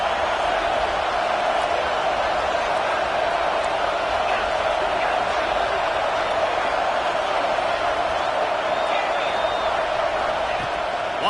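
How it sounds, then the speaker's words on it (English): Stadium crowd at an Oregon at UCLA college football game, a steady roaring wall of cheering and shouting that holds constant at a loud level, with a commentator talking over it. "This crowd rising up, sensing that its defense needs some help."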